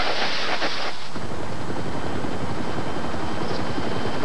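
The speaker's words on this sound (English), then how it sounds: "It was a large NATO helicopter, very sophisticated and well equipped in every respect" A large NATO rescue helicopter roars loud and close, its rotor thudding in a dense continuous churn with a brief rushing burst at the start.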